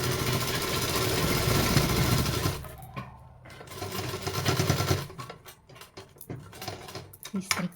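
A sewing machine stitches elastic onto a ladies' pant, a steady mechanical whir for a few seconds, then stopping and restarting in shorter bursts with faint handling noise and a voice speaking in between.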